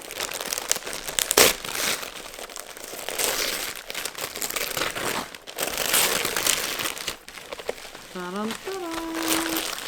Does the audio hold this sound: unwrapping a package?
yes